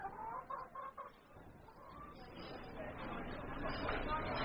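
Chickens cluck in short, nasal bursts near the start, then a murmur of background voices and room noise takes over.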